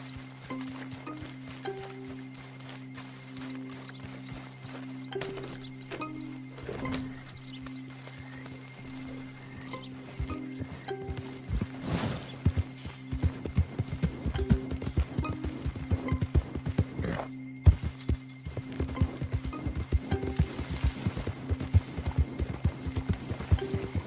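Rhythmic hoof clip-clops in Red Dead Redemption 2 grow louder over a steady background hum and tones, the trotting becoming dense and continuous in the second half.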